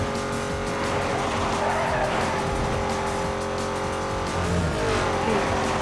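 Cars racing in Need for Speed Most Wanted (2005), with loud continuous engine roar and repeated tire squeals and skids running through the whole stretch, plus a swelling screech near the end.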